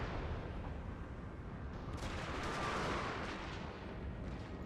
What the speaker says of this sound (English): They've just fired the volley and they're reloading